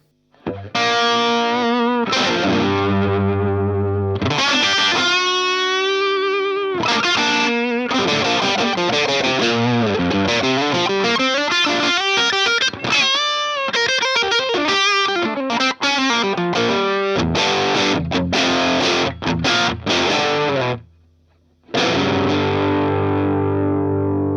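Heavily distorted electric guitar through a VOX AC15 amp with a Mudhoney pedal, sustained chords and riffs ringing loud and continuous, with one brief drop to near silence before resuming.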